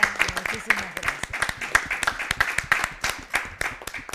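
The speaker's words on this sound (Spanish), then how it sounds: "Bueno, un fuerte aplauso." A small audience claps close by in a sparse, distinct rhythm of individual hand claps, with a voice speaking briefly near the start.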